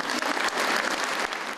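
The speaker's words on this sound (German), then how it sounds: "es folgte ein nicht enden wollender Applaus des Publikums" A theater audience applauds after an orchestra is renamed the Clara Schumann Philharmoniker at Theater Plauen-Zwickau. Dense, sustained clapping fills the room, steady and fairly loud, with no speech over it.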